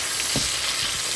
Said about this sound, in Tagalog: igisa na natin ang kamatis, sibuyas, bawang, at luya